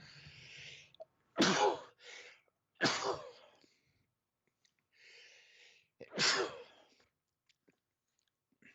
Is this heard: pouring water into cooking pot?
no